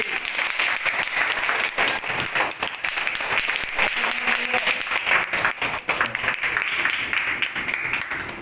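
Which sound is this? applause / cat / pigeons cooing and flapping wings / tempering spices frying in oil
applause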